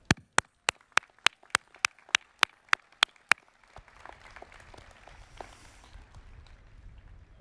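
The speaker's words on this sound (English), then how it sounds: "You all should give yourselves a big round of applause now." Applause at an engineering school degree ceremony begins as a loud, evenly spaced series of about a dozen sharp claps. It then gives way to a faint, diffuse crowd murmur.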